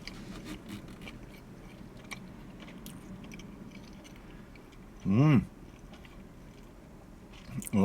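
Someone bites into and chews a Domino's four cheese pizza with camembert, giving soft close-up crunching and mastication under brief talk, in quiet surroundings.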